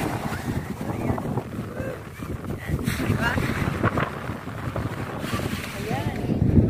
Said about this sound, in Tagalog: Ang hangin sa labas. Sobrang hangin.